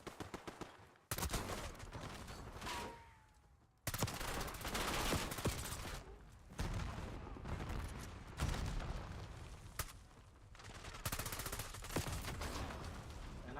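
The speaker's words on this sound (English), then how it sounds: "Grenade going out." A frag grenade explodes amid continuous gunfire in Black Ops 6 multiplayer on the Nuketown map, with loud bursts of shots and booms filling the whole stretch and no talk.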